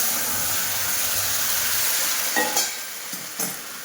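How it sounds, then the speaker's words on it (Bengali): Bitter gourd and potato curry tips into a hot pan of oil with bay leaf and cumin, setting off a steady loud sizzle with a few sharp bursts of hiss and stirring near the end. "এবার আমি এর মধ্যে উচ্ছে আলুর তরকারিটা দিয়ে দেবো।"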